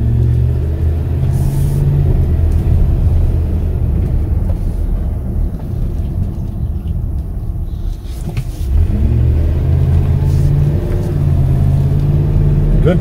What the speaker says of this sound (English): Take it for a little test drive